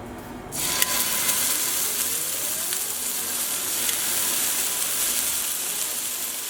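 Steaks sizzle in a hot pan for a home-cooked steak Marsala, a steady loud hiss of frying fat that starts abruptly and holds evenly throughout, with no talking.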